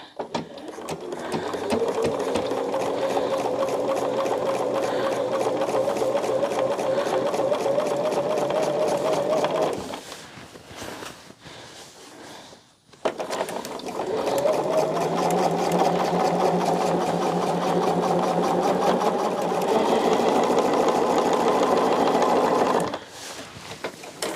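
A sewing machine stitches a quilt backing in two long, steady runs of rapid mechanical whirring, loud and close, with a brief quiet pause in between where the needle is repositioned.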